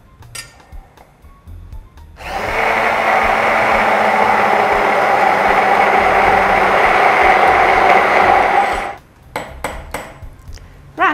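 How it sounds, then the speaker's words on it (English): A handheld blender whirs steadily for about seven seconds, mixing water and sodium alginate into a bath, with light clinks of a container before and after the motor runs. "I'm going to use my handheld blender to mix this really well"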